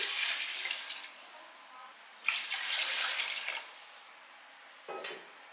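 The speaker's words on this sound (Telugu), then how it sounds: "ఇప్పుడు మనం ఇందులో ఎసురు పోసుకుందాం" Water is poured into a pot of mutton gravy for seeraga samba mutton biryani in three separate splashing bursts, the middle one longest, fairly quiet and close, with no speech.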